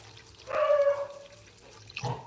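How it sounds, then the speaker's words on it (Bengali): Water pours briefly into a golden retriever's bowl, a short splashing burst close by, followed by a quieter clatter near the end. "দাঁড়া জল দি, দাঁড়া দাঁড়া, জল দেবো তোমার বাটিতে"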